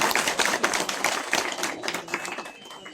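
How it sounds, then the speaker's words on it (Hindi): Friends clapping at a farewell gathering in a room, a dense patter of many hands at fairly low volume that thins out toward the end. "सारे मित्रों ने जिस तरह से इनका ताली बजाकर स्वागत किया"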